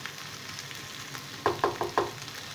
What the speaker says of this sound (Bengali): পেঁয়াজটা একটু ট্রান্সপারেন্ট হবে সেই অবধি ফ্রাই করব